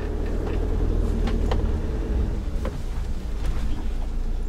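Camper van rolling into a driveway, heard from inside the cab as a steady low engine and road rumble with faint rattles and bumps, no talk.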